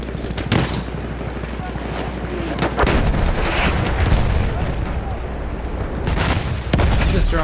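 Repeated C4 and TNT blasts in the World War 1 shooter Battlefield 1, heavy booming detonations and artillery-like bursts crowding a continuous loud battle din, with sharp impacts near the start, middle and end.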